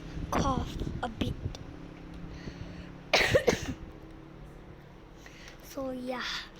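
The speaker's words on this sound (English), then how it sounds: "I have coughed a bit." A child coughs a few times indoors, with short bursts near the start, in the middle and toward the end, fairly close and moderately loud over a quiet room background.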